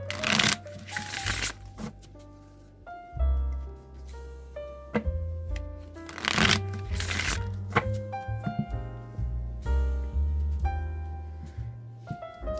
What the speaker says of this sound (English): And I'm just going to shuffle this deck 3 times.